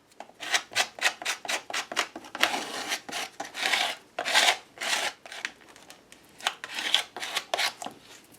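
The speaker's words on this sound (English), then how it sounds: "Bring in my sanding block." A sanding block is rubbed back and forth in quick, rhythmic strokes, each a short raspy scrape, close and distinct, about twenty passes with brief pauses, no voices.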